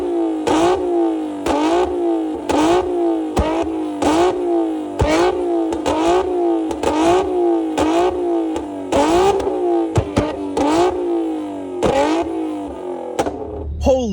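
A tuned Nissan 370Z with 3-inch intakes revs sharply again and again in a fast, steady rhythm, loud and close, each blip rising and dropping quickly.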